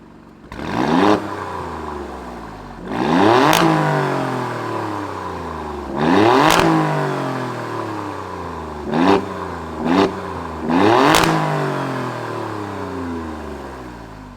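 Alfa Romeo Stelvio Quadrifoglio performance SUV, 2022, engine firing up then blipped through a series of sharp, loud revs that rise and fall back, with two quick jabs near the end, close by and with no talking.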